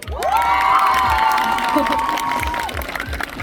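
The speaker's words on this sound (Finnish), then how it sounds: "tähän tarvitaan iso aplodit" A convention crowd at Tracon in Tampere cheers loudly with whoops and shouts during a cosplay presentation, with applause mixed into a dense, sustained roar.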